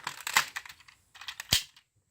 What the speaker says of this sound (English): you fold those back to the rear of the vehicle